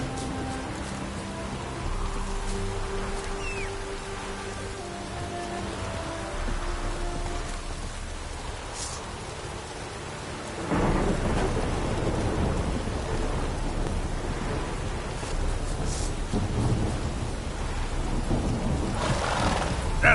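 Thunderstorm with steady rain in The Witcher 3: Wild Hunt, heavy downpour hissing throughout with rolling thunder swelling louder midway and persisting, no voices.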